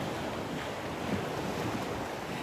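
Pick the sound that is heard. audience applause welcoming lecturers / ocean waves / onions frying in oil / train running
ocean waves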